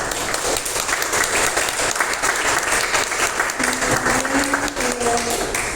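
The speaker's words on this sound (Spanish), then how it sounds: "Vamos a despedir a la universidad y a nuestros ponentes con un fuerte aplauso." Loud, sustained audience applause at a university colloquium on higher education, dense clapping throughout with a few voices rising near the end.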